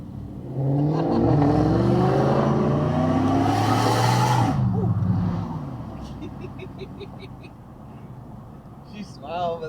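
A car at a car show does a burnout, with a loud close engine rev that climbs in pitch, tire noise, then a drop to a lower rumble. People talk and shout over it.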